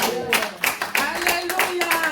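Church congregation clapping and calling out in praise, a loud steady rhythm of claps roughly every third of a second mixed with voices.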